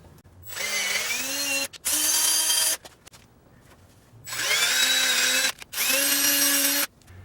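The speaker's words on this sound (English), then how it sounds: "I'm going to tap these under power on the low speed setting on my hand drill" A hand drill on its low speed setting power-taps threaded holes in metal, whining in two pairs of steady bursts, pausing briefly between each, running at a constant low speed close to the mic.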